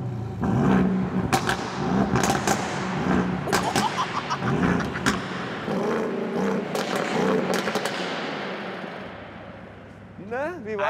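A tuned bus engine revs hard in a loudness contest with a series of loud roaring bursts and sharp cracks. Voices talk over it while the engine settles toward a lower rumble.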